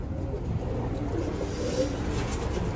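Pigeons coo softly in a loft, low murmuring calls spread through the clip beneath a steady broadband background hum, with no one speaking.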